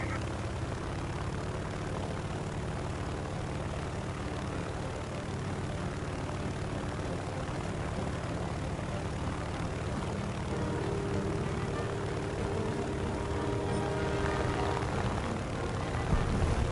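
Fixed-wing propeller aircraft droning steadily overhead during an air battle, a continuous broad engine roar that holds even and loud throughout, with voices faintly present beneath it.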